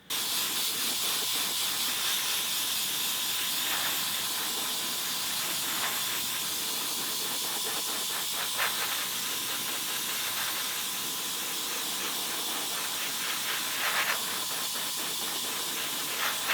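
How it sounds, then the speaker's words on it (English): An airbrush mists paint onto pieces of a 1:18 scale 1950 Merc custom woody model car, giving a continuous airy hiss that runs steadily throughout with small pulses and no voices. "The more air you use, the thinner this stuff goes on, the better it looks."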